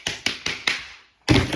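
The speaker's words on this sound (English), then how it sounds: "I hear you typing." Typing on a phone or keyboard: four quick, crisp taps in a steady rhythm, a brief silence, then one more louder tap, close and alone.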